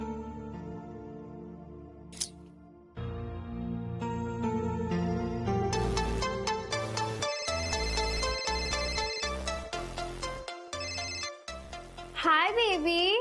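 An electronic phone ringtone plays a repeated melodic pattern loud and close, starting after a brief tone and continuing steadily, with warbling sweeps near the end.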